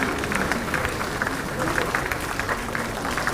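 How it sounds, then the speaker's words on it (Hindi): Applause from an audience at a government appointment letter distribution ceremony led by a chief minister, steady dense clapping sustained throughout with a crowd murmur underneath. "तालियों में कमी ना हो"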